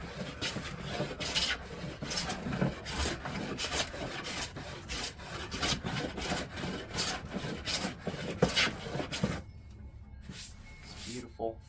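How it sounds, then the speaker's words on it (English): A hand scraper draws repeatedly across walnut wood, producing a series of rhythmic rasping strokes close by that stop abruptly near the end. "removing any and all imperfections with the scraper"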